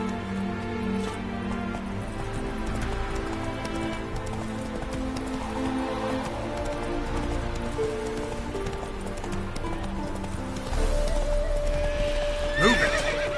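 A horse in The Witcher 3 gallops with rapid hoof beats and a whinny, while rain patters in the background and the hoofbeats grow heavier near the end.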